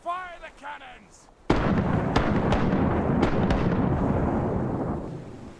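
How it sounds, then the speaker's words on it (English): Ship cannons in the pirate game Rise of Piracy fire in a sudden loud burst after brief talk, leaving a heavy sustained roar with several sharp cracks on top. "Ready to fire the cannons!"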